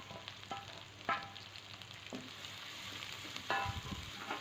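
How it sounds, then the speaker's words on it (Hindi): Finely chopped onion frying with ginger and garlic in a pan for restaurant-style chilli chana, a steady close sizzle broken by a few sharp stirring scrapes and clatters, with no talking. "तो प्याज को भी हम हल्का सा भुनेंगे।"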